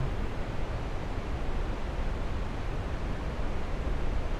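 Waterfall rushing in a steady, even broadband hiss, constant and fairly soft throughout with no voices or other sounds.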